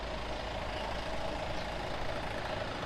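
A noisy bus engine idles on a street in Khao Takiab, Hua Hin, Thailand: a steady, loud, close low rumble with constant broadband roar and no pauses.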